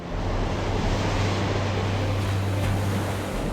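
Huge Atlantic Ocean waves at Porthcawl, South Wales, roar as a continuous, loud wash of surf with a low rumbling undertone and wind buffeting, steady throughout with no voices.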